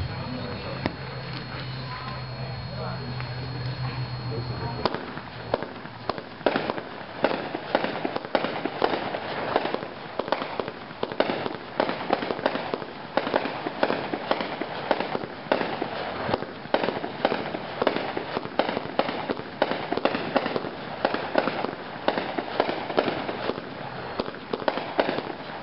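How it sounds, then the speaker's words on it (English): A Spirit of 76 Pro Line fireworks cake firing multicolor peonies, 36 shots in quick succession, makes a long run of sharp booming bursts that begins after a quieter lead-in and keeps a steady, relentless rhythm. Voices are audible beneath it. "Next up is a 76 Pro Line cake. Multicolor peonies, 36 shots,"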